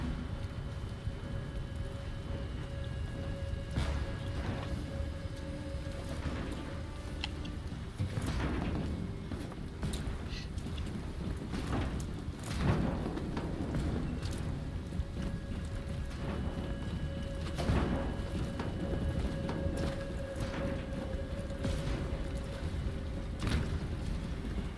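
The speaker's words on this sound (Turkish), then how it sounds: "Yağmur sesi bastırıyor." Steady rainfall in Detroit: Become Human, a continuous hiss of drops on surfaces with scattered louder taps and patters, a constant moderate wash with no talk.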